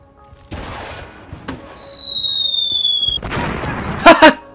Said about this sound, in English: Don't fucking shoot a rocket at me